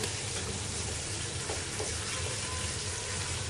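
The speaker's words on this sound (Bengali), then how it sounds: "দুটো তেজপাতা দিয়ে পেঁয়াজটাকে একটু ভেজে নিয়েছি। আমি এখন একে একে মশলা দিব। রসুন বাটা" Onion with two bay leaves and garlic paste frying in oil, a dense, steady, close sizzle that runs unbroken throughout with faint stirring scrapes and no talk.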